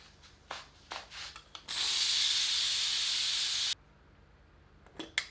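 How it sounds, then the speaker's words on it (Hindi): A pressure cooker with taro root cooking on high heat releases steam in one loud, steady hiss of about two seconds. Faint clicks and scrapes come before and after it. "और इसे तीव्र आंच पर 2 सीटियां देकर पका लेते हैं।"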